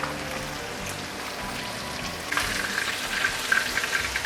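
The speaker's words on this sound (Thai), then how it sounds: "การทอดแหนมท้องปลาแซลมอน" Fermented salmon belly (naem) frying in hot oil, a steady close sizzle with crackling that grows busier and brighter partway through, popping on top, no voices.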